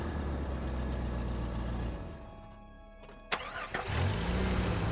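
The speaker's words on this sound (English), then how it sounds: "I hauled the door open and started the engine" Car engine with a faulty spark plug cranking and sputtering to life: a steady mechanical drone fades, then a sharp click and a low rumbling catch as the motor turns over, close and fairly loud.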